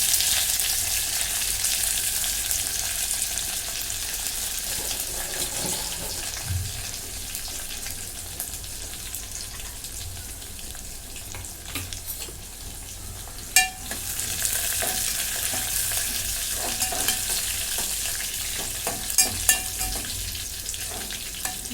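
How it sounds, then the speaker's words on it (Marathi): Finely chopped garlic and curry leaves fry in a pan until golden, a loud, continuous close sizzle with occasional stirring scrapes and sharper crackles toward the end. "लसूण चांगला तांबूस रंगापर्यंत भाजून घेते"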